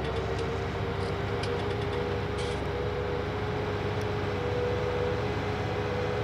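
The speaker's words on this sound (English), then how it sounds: "There's the train." A train passes in the video game Farming Simulator 19, heard as a continuous low rumble with a steady hum and faint clanks throughout, with no voices over it.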